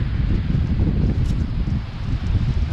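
Strong wind on Fort Lauderdale Beach roars steadily against the microphone, a dense low rumble with gusty buffeting throughout and no break.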